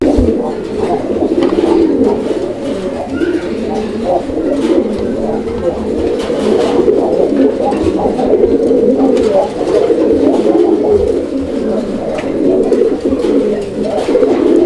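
Many Raj-golla pigeons coo in a dense, continuous, throbbing chorus that stays loud and close throughout, as in a crowded pigeon loft.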